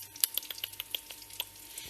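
Butter and bacon sizzle in a frying pan, with a steady hiss broken by quick, irregular pops and spits close by.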